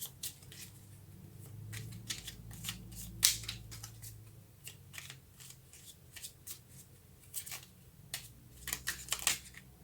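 Tarot cards are shuffled and drawn in a quiet room, with repeated soft riffling flutters and sharp card snaps scattered throughout at close range.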